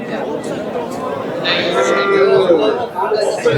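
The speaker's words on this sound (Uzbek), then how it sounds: "Chiroyli mollar." Cows mooing at a busy livestock bazaar, with a loud nearby low moo rising over a constant murmur of crowd chatter and people talking.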